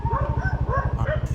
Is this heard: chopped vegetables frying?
no